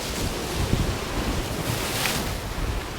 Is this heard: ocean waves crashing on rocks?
yes